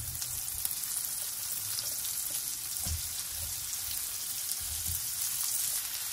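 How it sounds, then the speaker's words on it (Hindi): Stuffed okra (bharwa bhindi) laid out in oil in a pan over low heat gives a steady, even sizzle and frying hiss, close and constant, with faint occasional clinks. "ये हमने सारी भिंडी इसमें लगा दी तेल में"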